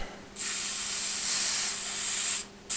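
A hot tip of a 936 soldering station hisses against a wet sponge, a steady broad hiss that starts abruptly, holds for about two seconds and then cuts off, with no talk.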